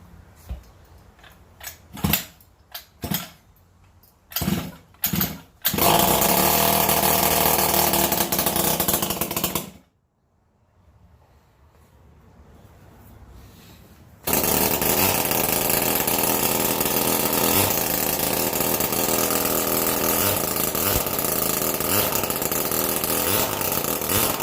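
A 49cc two-stroke engine fitted to a Razor E-150 scooter, running with no exhaust: sharp sputtering pops and short revs at first, a brief cutout, then a loud, raspy, buzzing drone that runs steadily to the end.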